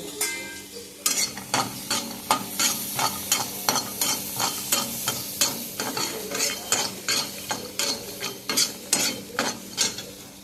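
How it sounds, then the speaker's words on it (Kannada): Coconut fries in a pan for a Tulu-style ivy gourd gravy, heard as a close, rhythmic scrape of stirring over a constant sizzle, with regular strokes repeating through the clip and no voices. "ತೆಂಗಿನಕಾಯಿಯನ್ನು ಫ್ರೈ ಮಾಡ್ತೀನಿ ಅಷ್ಟೇ"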